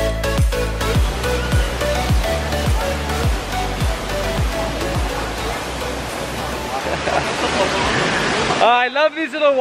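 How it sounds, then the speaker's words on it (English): Limama Falls, a jungle waterfall in Zamboanga City, roars as a steady, loud rush of water under rhythmic music, with a voice talking over the end. "It's a waterfall?"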